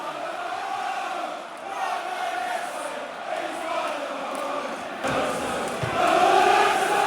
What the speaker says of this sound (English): Well, that's got the crowd buzzing